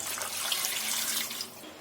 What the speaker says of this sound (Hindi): आधा लीटर के करीब डालेंगे हम इसमें पानी।